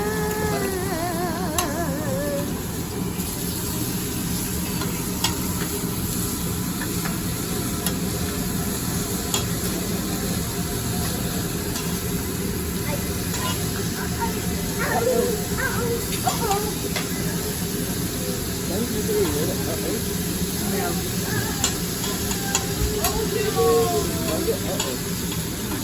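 French fries cooking with butter on a hibachi grill, a steady loud sizzle and hiss with occasional scraping and stirring, and voices faintly in the background.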